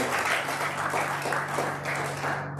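A church congregation applauds together after a call to clap for the Lord, a steady wash of hand claps holding at even strength with a low sustained hum beneath, tapering slightly at the very end.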